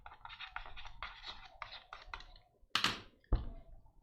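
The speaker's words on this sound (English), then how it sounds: "Good chance that someone is currently typing." Soft, rapid keystrokes patter on a computer keyboard for a few seconds in a quiet room, followed by two sharper clacks, faint and at a slight distance.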